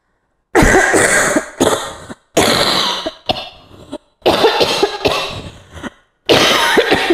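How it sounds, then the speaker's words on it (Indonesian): A series of harsh, loud coughs in separate bursts, close to the listener, with short silent gaps between fits. "Gue batuk-batuk."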